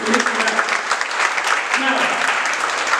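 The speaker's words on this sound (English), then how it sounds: "Can you applaud yourselves for a moment?" A roomful of more than 200 people at a seminar applauds, the dense clapping lasting throughout with a voice faintly heard beneath it.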